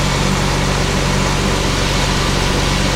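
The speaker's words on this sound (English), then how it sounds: "Take it up to the rev limit wide open." Nissan G37 sedan with Stillen long tube intakes held wide open at its rev limit, a loud, steady, dense engine roar sustained close by with no change in pitch.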